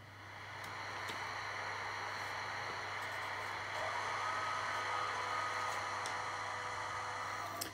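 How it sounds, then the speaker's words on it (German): A fan and air-conditioning unit running inside a Lima model of a DSB MR 4051 diesel railcar, a faint, steady whooshing hum with a low drone beneath it, constant throughout with no talk. "so Lüfter, Klimaanlage."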